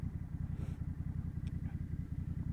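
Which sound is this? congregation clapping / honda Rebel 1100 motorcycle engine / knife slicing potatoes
honda Rebel 1100 motorcycle engine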